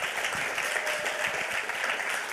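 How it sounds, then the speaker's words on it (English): Audience clapping in a conference hall at a hacker congress lightning talk, a steady dense patter of many hands, moderately loud and continuous throughout the short burst. "So give them a round of applause for that."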